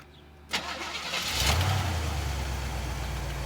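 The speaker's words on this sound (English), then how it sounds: "time to fire her up. 350, number matching, optioned" A 1973 Chevrolet Corvette with a 350 V8 cranks briefly and catches, roaring up to a quick rev before settling into a deep, steady idle, close by with no talking.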